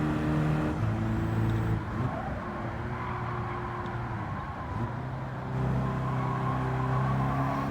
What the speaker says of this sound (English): this is the most powerful car we've driven by a mile, and it is also turbocharged